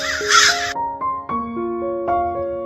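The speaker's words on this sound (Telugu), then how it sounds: "చెట్టు కొమ్మల మధ్య ఉన్న గూటిలోంచి కాకి పిల్లల అరుపులు వినిపించాయి." Crow chicks in a nest among tree branches caw repeatedly, a series of loud, close, harsh calls in an uneven rhythm with no other sound.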